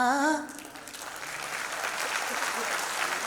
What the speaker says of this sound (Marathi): नाही, ह्या टाळ्या साध्या गाण्याला आहेत